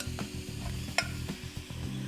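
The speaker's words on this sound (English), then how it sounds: "It's gonna sizzle a bit." Canned sliced peaches hit a hot pan and sizzle steadily, with soft clattering knocks as the slices drop in and shift around, close and moderately loud.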